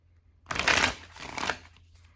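A deck of oracle cards is shuffled in two quick riffling bursts, close and fairly loud, with no talk over it.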